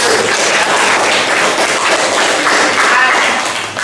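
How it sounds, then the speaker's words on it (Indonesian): A classroom audience claps for a student group's presentation in an Islamic studies lesson, a dense, steady patter of many hands filling the whole few seconds at close range with no talk over it. "kasih aplaus dulu untuk presentasi kelompok 1"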